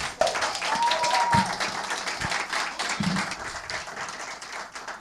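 An audience applauds at a televised Mother's Day singing show in Sorocaba, a steady wash of clapping that rises and falls over several seconds, with a brief whistle and a few scattered louder claps.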